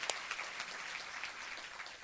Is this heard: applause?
yes